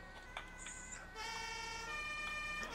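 Emergency vehicle siren in the farming game Landwirtschafts-Simulator 15, a steady electronic wail with stacked tones that shifts pitch partway through and continues loud to the end, with no talking.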